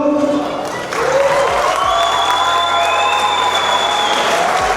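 Wedding guests from the bride's side at an Armenian wedding break into sustained applause. The loud, dense clapping runs for the whole stretch, with a crowd murmur and background music tones underneath.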